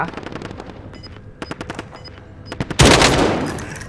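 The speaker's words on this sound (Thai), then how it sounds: "ข้างหน้ายิงกันอยู่สองคน" Machine gun fire in Call of Duty Warzone training battle royale mode: rapid rhythmic bursts, then a louder, closer shot with a rushing blast near the end.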